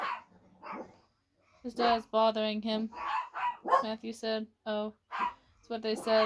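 Pet dogs bark indoors in sharp, repeated yaps that punctuate a woman reading aloud, the barks mixed in with and partly masked by her voice.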